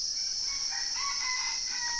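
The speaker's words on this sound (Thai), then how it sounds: "โอ้ได้ยินแต่เสียงไก่ขัน" A distant rooster crows in a remote Thai village across a constant shrill buzz of insects, faint but clear, with no voices.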